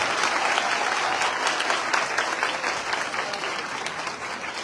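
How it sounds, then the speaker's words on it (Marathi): Sustained audience applause at a felicitation ceremony where a guest is welcomed with gifts and a saint's portrait, a dense, steady clapping crowd filling the room throughout. "जोरदार टाळ्या झाल्या पाहिजे"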